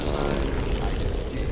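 A propeller plane engine in the video game Deadfall Adventures gives a steady, loud, rumbling drone that stays constant and unbroken throughout.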